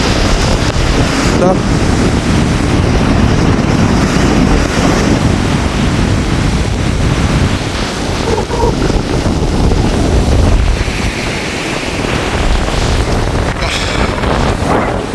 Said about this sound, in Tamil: பயங்கரமான அலைகள் பயங்கரமாக வந்து அலை அடிச்சு கொண்டிருக்குது